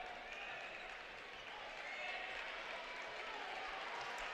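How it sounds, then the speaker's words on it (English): High school basketball crowd in a gym at a close game, applauding and cheering as a steady, fairly faint wash of clapping and voices under a commentator's talk. "Crowd on their feet."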